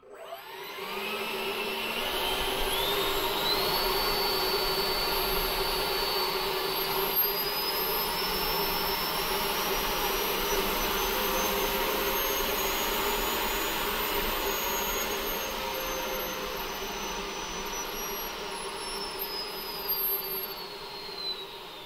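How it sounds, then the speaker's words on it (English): An XFly 64mm 4s electric ducted fan motor on a Freewing F-22 model jet spins up to a loud, steady high-pitched whine with a rising tone, close and continuous with no talking. "Let's go ahead and spin it up."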